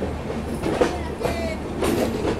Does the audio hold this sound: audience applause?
no